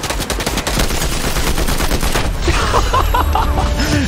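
A combat assault rifle in Fortnite fires rapid bursts of gunfire, loud and close, a dense stream of cracking shots followed by game effect tones as the firing ends.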